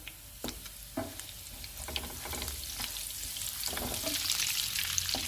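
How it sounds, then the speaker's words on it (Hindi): Steady sizzling of cumin seeds and butter frying in a hot pan, with light scraping and clinks of stirring, growing slightly louder over time. "अब इसमें हम ज़ीरा डाल देते हैं, और साथ ही बटर डाल देंगे।"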